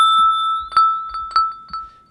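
Sculptor modeling synth in Logic Pro X plays a short sequence of bright, bell-like glassy tones, about five plucked notes over a sustained ringing pitch, clean and close with no voices.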